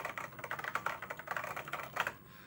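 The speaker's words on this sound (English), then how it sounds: "This is a full mechanical keyboard." Rapid, irregular clacking of keys pressed on a TI-99/4A home computer's full mechanical keyboard with Alps switches, close and fairly quiet, heard alone with no talking.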